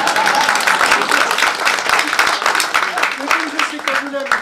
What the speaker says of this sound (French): Dépêchez-vous d'applaudir parce que...